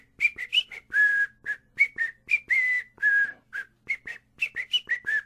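A person whistles a bouncy melody alone, short clear notes mixed with a few longer held tones, close and fairly loud.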